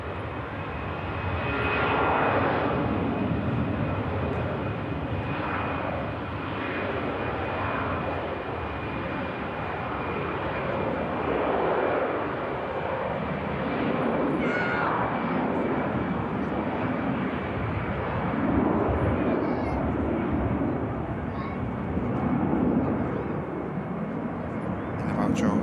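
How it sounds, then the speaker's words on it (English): An EasyJet jet airliner departs with a sustained, loud engine roar that swells and fluctuates over the whole stretch, with speech faintly mixed in at times. "EasyJet lined up for departure now"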